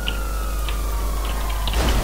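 Police siren in the GTA video game, a steady wailing tone under a constant loud engine-like rumble, with faint short chirps scattered through it.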